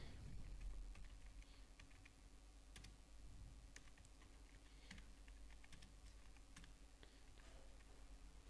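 Computer keyboard keys tapping out a heading in MS Word, soft irregular clicks spread over several seconds, faint against a low steady room hum.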